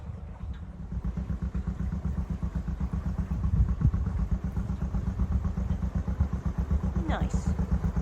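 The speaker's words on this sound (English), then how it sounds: "In the distance, I can hear the sound of an old boat going pop," An old narrowboat engine thumps out a steady, rapid pop-pop rhythm at moderate volume, running continuously throughout.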